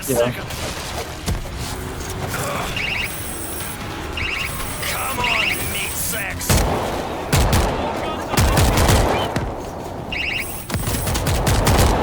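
AK rifle fire and grenade launcher blasts in the zombie shooter World War Z, rapid bursts and booms layered throughout while players talk excitedly over the game.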